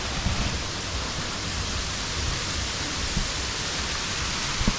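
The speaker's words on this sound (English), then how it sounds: "Look at this beautiful waterfall." Waterfall at Dantewanda Land of Angels Waterfall Park, a steady broadband roar of falling water heard close by with no pauses. No voices.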